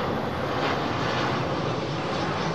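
Jet airliner engines at London Heathrow Airport produce a loud, steady, broadband roar that holds without a break, with no voices heard.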